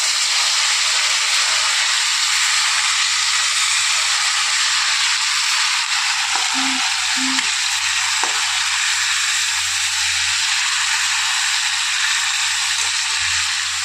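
A paste of green chilli, garlic and garam masala sizzles steadily in a pan, a constant loud hiss with a couple of brief clinks partway through.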